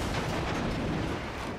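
Naval guns in World of Warships boom in a dense, rumbling roar of heavy gunfire that fills the short moment without a break.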